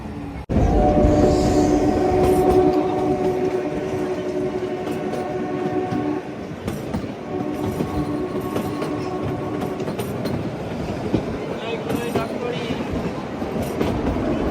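The Himalayan Queen toy train on the Kalka–Shimla line rumbles and clatters steadily over the track near Shimla, with a sustained horn-like tone early on and faint distant voices in the background.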